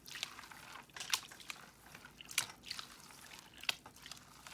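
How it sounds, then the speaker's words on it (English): Water washes back and forth over rocks in a gold pan during home gold panning, with repeated splashy swishes and soft drips close by and no talking. "I will start tipping the pan forward and letting the water come in and out over the top of the rocks"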